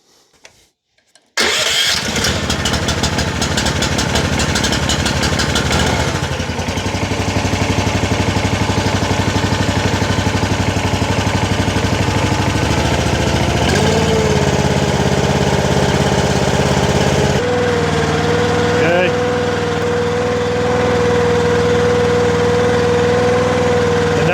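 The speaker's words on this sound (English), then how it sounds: "let me start it up and show you what it's doing" The engine on a RuggedMade log splitter starts after a short quiet moment and then runs loud and steady close by. Its pitch shifts partway through as the load changes, with no speech.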